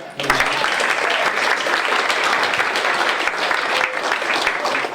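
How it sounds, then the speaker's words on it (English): A crowd at a community poetry festival and birthday party breaks into sustained applause for the winners, a thick, even patter of many hands clapping at moderate loudness. "And we also have a round of applause for all our winners today."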